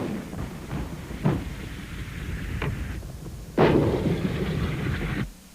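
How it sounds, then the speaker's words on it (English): US 1st Marines howitzers shelling enemy positions in the Gulf War, with heavy booming blasts, one sharp report near the start, another in the middle, and a long loud roaring blast toward the end over steady rumbling background noise. "howitzers of the US 1st Marines opened up, shelling enemy positions."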